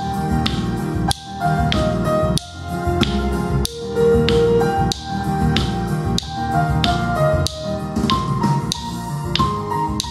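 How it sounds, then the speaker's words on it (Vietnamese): Children in a first-grade music lesson clap along to a sung song, marking the lyrics with sharp, evenly spaced claps roughly once a second over steady accompaniment. "vỗ tay thật đúng những ca từ được đánh dấu nhé"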